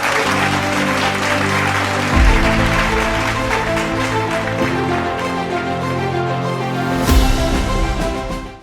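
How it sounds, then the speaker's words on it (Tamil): A crowd claps steadily, a dense wash of applause that holds at an even level throughout, with a brief swell near the end. "ஒரு பெரிய கைத்தட்டலோட பிரதாப்"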